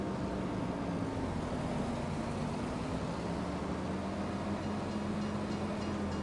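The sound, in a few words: train passing in Farming Simulator 25 video game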